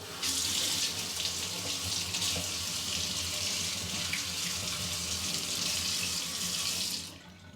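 A small kitchen tap runs into a small sink with a steady, close hiss of water, starting suddenly and stopping just before the end.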